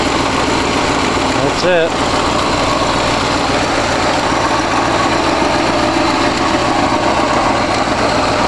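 A rebuilt 1965 Ford 352 V8 idles loudly and steadily with two small exhaust leaks at the donut gaskets, a brief voice speaking near the start over the constant rumble.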